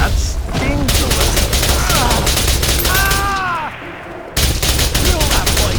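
Heavy gunfire from the video game Mercenaries 2: World in Flames, a loud sustained barrage of rapid shots with a short lull near the end, mixed with distant whistles and battle noise.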